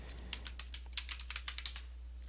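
Fingers type on a computer keyboard in a short run of light, irregular key clicks, close and fairly soft over a low steady hum, with no voices.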